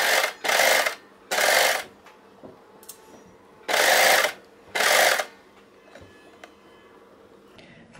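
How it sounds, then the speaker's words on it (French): Sewing machine stitching around the neckline of a dress, running in four short bursts of about half a second each, whirring loudly and close, separated by quiet pauses with faint handling clicks. "On pique tout autour de l'encolure."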